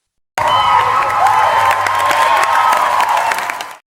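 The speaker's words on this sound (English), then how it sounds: "The audience never leaves, the applause never ends" A big audience applauds and cheers in one loud, steady wash of clapping and shouting that starts suddenly, runs for about three seconds and then cuts off.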